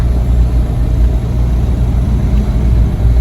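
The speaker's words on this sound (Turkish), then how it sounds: "trafikteyiz şu anda." A car's engine hums at low pitch amid traffic, with steady road rumble and mild revving, continuous and fairly loud, with no voices.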